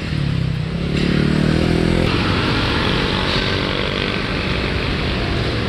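Many motorcycles in busy street traffic at a signalized intersection in the Philippines make a loud, continuous engine drone, with revving swells rising over the steady roar close by.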